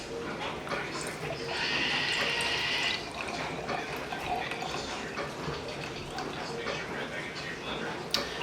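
Pumped breast milk is poured into a container, a brief, faint liquid trickle early on that rises above a quiet, noisy indoor background.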